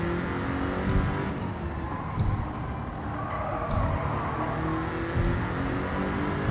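An Audi R8 4.2 engine revs in the video game Gran Turismo on a drying track, a steady, sustained engine drone held at moderate revs with brief surges, close and continuous throughout.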